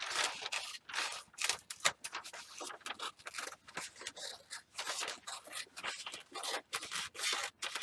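Paper scissors snip through a paper stained glass pattern in a quick run of close, crisp cuts, with repeated short strokes and brief pauses between them.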